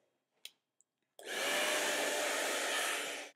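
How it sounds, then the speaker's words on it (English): After a couple of small clicks, a hair dryer on its lowest speed switches on and runs with a steady, airy whir close by. "you can always use a hairdryer. So just put it on the lowest speed"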